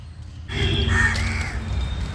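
A crow calls after taking offered rice at a home ritual, a single harsh caw close by against a low background murmur.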